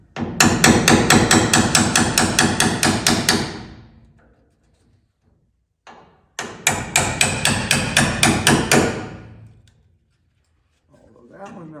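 Aluminum rivets are hammered off the lock pillar of a split-window body in two loud bursts of rapid, rhythmic metallic blows separated by a pause, close and harsh.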